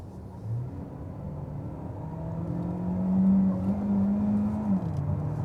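A DS 9 hybrid car in sport mode accelerates from around 50 km/h, its engine note rising and swelling in pitch, then holding steady near the close.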